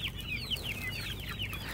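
Speckled Sussex and Dominique hens give soft, short clucks and murmurs at close range, a few quick quiet calls over low background noise.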